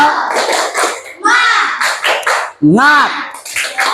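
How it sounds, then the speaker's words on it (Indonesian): A group of children clap together in a classroom cheer, sharp bursts of claps in short rhythmic runs, close and loud, with a voice and an adult's voice speaking between them. "Tepuk semangat"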